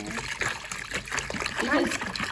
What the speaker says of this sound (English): Mama, put the water.